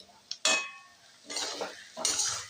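Mashed elephant foot yam bharta stirred in a dish with slit green chillies and chopped lime leaves, giving three short bursts of spoon-on-dish scraping, close and moderately loud, with quiet gaps between.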